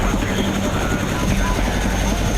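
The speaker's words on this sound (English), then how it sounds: "the Chinooks head back down to the extraction point" Chinook helicopters flying toward an extraction point in Afghanistan during a special operations raid, a steady, loud low rotor and engine roar with no break.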